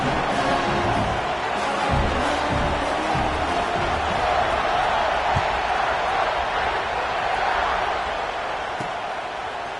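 A packed stadium crowd in an NCAA college football video game keeps up a steady, dense roar of murmuring and cheering for nearly ten seconds, broad and distant-sounding, with no talk over it.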